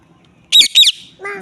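Two quick, harsh squawks from a nearby bird, followed by a short lower call, loud and close against near silence.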